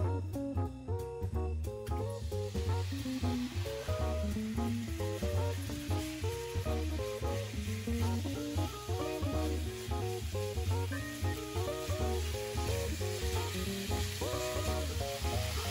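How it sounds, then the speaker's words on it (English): Chicken frying in hot oil in a pan hisses in a dense, continuous sizzle that holds steady throughout, with what sounds like rhythmic background music layered over it. "fry the chicken first. Okay. Oil. Okay. So now the oil is hot,"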